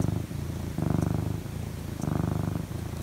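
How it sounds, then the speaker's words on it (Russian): A house cat purring up close, a soft rumbling purr that swells in rhythmic pulses with each breath, heard alone and steady. "Он так мурчит классно."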